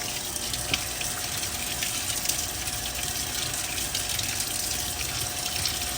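Water pours steadily into the tub of a Maytag top-loading washing machine filling for its rinse cycle, a constant close rushing gush with a faint pump hum underneath and no pauses.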